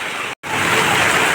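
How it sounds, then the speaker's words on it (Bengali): Dense, steady rushing noise of heavy rain, loud and close, broken by a brief silent cut near the start. "এমন বৃষ্টি হচ্ছে এখানে বন্যা হয়ে গেছে"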